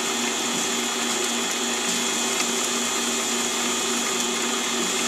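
A resharpened 0.5 mm drill bit cuts into steel on a mini-lathe, giving a steady, continuous high-pitched motor whine with a faint grinding texture, close and even throughout, with no talk.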